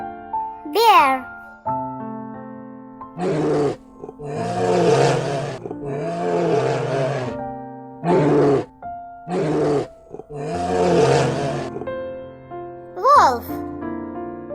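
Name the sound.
bear roaring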